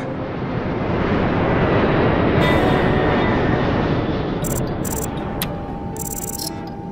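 Cartoon airplane takes off and flies away with a loud, dense roaring engine rush that swells, holds steady and slowly eases, accompanied by a few electronic beeping tones near the end.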